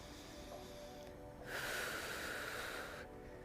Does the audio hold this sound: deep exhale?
yes